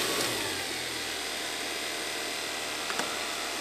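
A 12V DC to AC electromechanical generator strains under a heavy current draw, giving a steady, loud broadband whir with a low hum beneath, plus a brief click near the end, with no talk.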